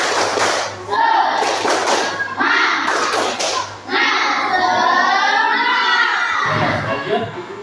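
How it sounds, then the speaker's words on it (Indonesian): A group of children in a classroom beats out a rhythmic spirit clap, several quick bursts of clapping and thumping mixed with shouted chanting, loud and close, with brief pauses between sections. "Tepuk semangat."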